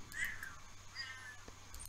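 A cat in The Sims 4 video game meows twice, soft high drawn-out calls heard faintly and close over quiet game ambience.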